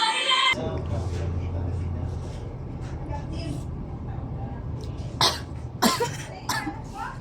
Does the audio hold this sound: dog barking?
no